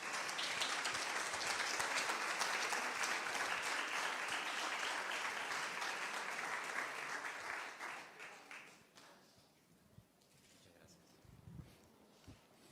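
An audience breaks into loud, sustained applause that gradually thins and fades over several seconds into a quieter room.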